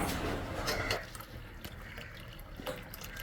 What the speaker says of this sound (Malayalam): ശർക്കര പാനി അരിച്ച് മാറ്റുന്നു